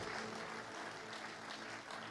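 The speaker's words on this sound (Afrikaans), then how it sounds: "Kom ons gee vir die worship span 'n lekker hande klap." Church congregation clapping for the worship team, a steady, fairly faint wash of applause from a room full of hands with no speech over it.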